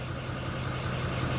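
A diesel car engine with high fuel rail pressure idles at around 640 RPM, giving a steady, close low rumble with a faint rhythmic throb.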